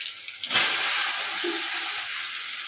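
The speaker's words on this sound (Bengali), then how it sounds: "পটলগুলোকে আমি একটু ছাড়লাম। পটলগুলো একটু ভাজতে হবে, ভালো করে একটু ভাজতে হবে।" Pointed gourd (potol) pieces drop into hot oil, setting off a sudden loud hiss that settles into a steady, close sizzle.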